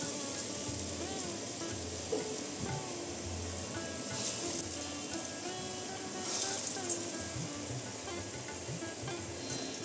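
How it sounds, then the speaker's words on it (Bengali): Lentil fritters (bora) deep frying in hot oil give a steady, soft sizzle and crackle that carries on evenly throughout, with faint background sounds. "দেখো বড়াগুলো ভাজা হয়ে গেছে।"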